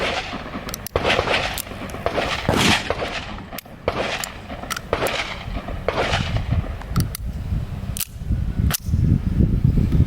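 A Beretta pistol fires .22 LR Super Winchester rounds outdoors, several sharp, loud cracks spaced irregularly over continuous background noise, with no talking.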